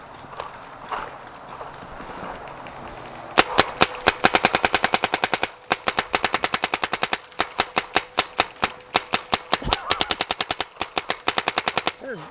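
A Planet Eclipse ETEK 3 paintball marker fires rapidly in close, loud bursts of sharp pops, with brief gaps where the firing falters and restarts, running for about nine seconds.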